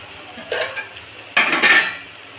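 Tomato pepper rasam stirred in a pot: a spoon scrapes and clinks against the metal in two short bursts, close and clear over a soft background.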